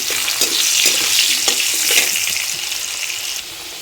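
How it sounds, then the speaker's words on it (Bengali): Potato pieces fry in hot oil with turmeric and salt, a loud, close, continuous sizzle with small crackles and stirring scrapes throughout. "আলুতে আমি সামান্য দিয়ে দিচ্ছি হলুদ গুঁড়ো, তারপরে সামান্য দিয়ে দিচ্ছি লবণ, দিয়ে একটু ভেজে নেব।"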